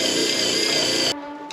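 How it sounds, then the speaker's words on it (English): Stiff wire brush scrubbing bare metal clean before stick welding, a dense, steady scratching rasp that runs for about a second, then cuts off, leaving a faint tonal hum with one brief scrape. "Make sure you clean your metal before. I'm just using a wire brush."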